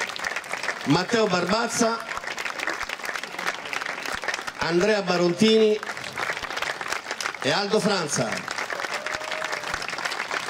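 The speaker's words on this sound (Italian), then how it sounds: "Facciamolo sentire questo applauso" A crowd at the Axed Group Latina team presentation for the 2015-2016 season claps steadily throughout, a continuous wash of applause while an announcer calls out player names over it.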